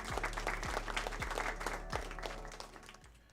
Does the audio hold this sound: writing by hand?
no